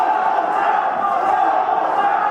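Crowd at a UK wrestling show cheering and roaring steadily, a dense continuous wall of voices with no breaks.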